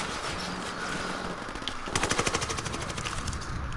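Rapid machine-gun bursts in a video game, a quick rattling string of shots cutting in after a low rumble, moderately close and fairly faint overall.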